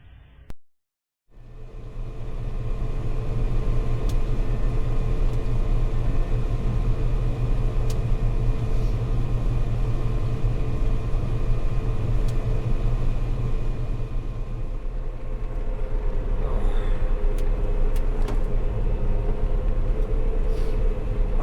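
A steady, loud low rumble and drone from farm harvesting machinery working a soybean field, unbroken after a brief quiet start and heard close up, as if from inside the cab.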